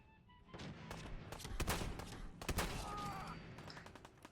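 Rapid gunfire from shooting an enemy in Fallout 4, a run of sharp close shots and bursts cracking over low game ambience, with a trailing electronic whine near the end.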